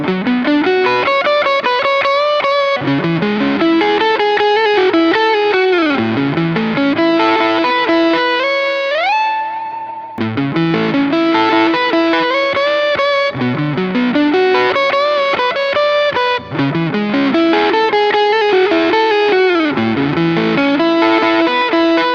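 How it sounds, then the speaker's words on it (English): An electric guitar plays a melodic lead with a smooth, low-gain, lightly driven tone and delay trails, repeating the phrase after a short bend-heavy pause. "So I'm gonna dial in like a low gain lead tone."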